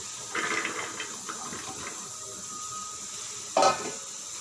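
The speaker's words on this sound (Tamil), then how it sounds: "இஞ்சி பச்சை மிளகாய் வைக்க போகிறேன் அதுக்கான பூண்டு இஞ்சி வெங்காயம் இந்த அளவுக்கு நான் சேர்த்திக்கிறேன்" Garlic, ginger and onion sizzle in oil in a pan for mutton curry, a soft continuous frying hiss with light stirring scrapes and one sharper clatter near the end.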